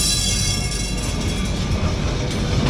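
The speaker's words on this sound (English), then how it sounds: "Right by us right there was one of the old cable cars." An old Lisbon cable car rumbles past on a city street, a steady loud mechanical roar and rattle that fills the whole moment without a break.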